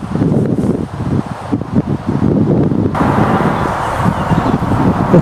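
Wind blows across an outdoor field of wild poppies, rumbling steadily and loudly into the microphone as a gusty, buffeting roar throughout, with no talking.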